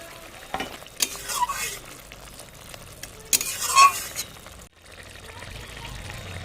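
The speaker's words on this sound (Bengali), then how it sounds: "ঝোল ফুটে উঠেছে, ভেজে রাখা মাছগুলো এবার দিয়ে দেব" Fried mourala fish dropped into a pot of boiling gravy, giving a loud stirring and sizzling splash followed by a steady bubbling simmer, with a brief lull partway through.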